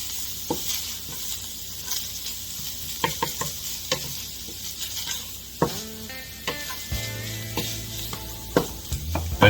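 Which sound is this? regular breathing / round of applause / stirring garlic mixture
stirring garlic mixture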